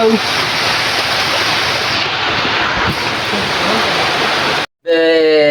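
Heavy rain pours outside in a loud, unbroken roar close to the microphone. It cuts out briefly near the end, and a voice follows.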